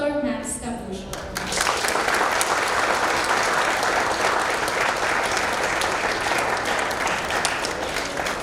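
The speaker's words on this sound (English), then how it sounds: "let us all welcome with a round of applause our distinguished lecturer, Dr. Max Cappuccio" An audience applauds to welcome lecturer Dr. Max Cappuccio at a distinguished lecture on social robotics, the dense clapping rising after a brief tonal lead-in and holding steady and loud to the end.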